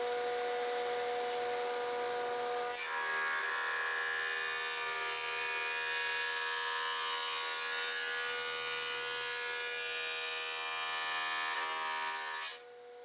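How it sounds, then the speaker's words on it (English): A woodworking jointer flattening one face of a warped plank, a steady high motor whine that rises to a louder buzzing cutting tone for about ten seconds, then stops abruptly. "you can run that plank over the joiner and actually make one flat"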